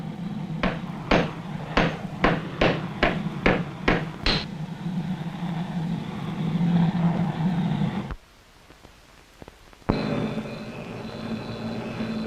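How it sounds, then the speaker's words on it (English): Light hammer blows land on an anvil while an axe is forged by hand: about ten quick, evenly spaced metallic strikes, followed by steady background noise and a brief lull. "with a few light blows at the anvil, Manson has completed forging an axe"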